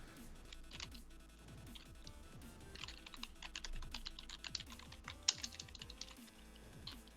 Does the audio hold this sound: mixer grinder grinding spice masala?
no